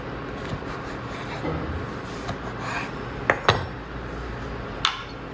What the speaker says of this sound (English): Cut it into pieces. You could make it more golden. Take a sharp knife to cut it.